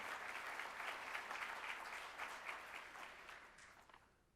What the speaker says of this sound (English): let's start that presentation by a round of applause for the winners